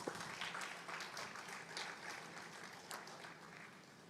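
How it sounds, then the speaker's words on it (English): Scattered applause from a conference audience greeting a volunteer, a moderate patter of claps that swells briefly and then thins, heard at a distance. "Please let's give our sister a round of applause."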